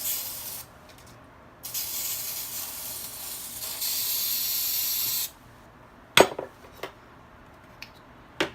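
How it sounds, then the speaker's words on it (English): Two long hissing bursts of aerosol spray, then a few sharp clinks and clatters of cans and utensils on a counter, close by. "so I'm going to use my buttery cookie spray"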